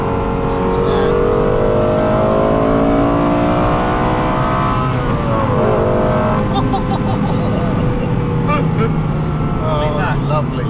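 Lexus LFA supercar engine revving and accelerating with quick downshifts, heard from inside the car as a loud continuous rising and falling engine note while people talk over it.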